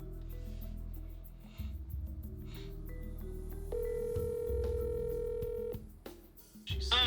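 A phone call is dialed: a quiet series of short electronic tones and steady telephone tones with no talking.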